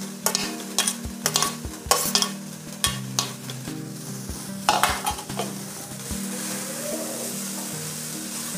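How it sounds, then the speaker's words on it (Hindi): Capsicum stir-frying in a pan with carrots for a veg Frankie filling, a steady close sizzle broken by repeated rhythmic clacks and scrapes of a spatula against the pan, then settling into continuous frying. "गाजर के बाद अब हमें शिमला मिर्चा डाल देंगे।"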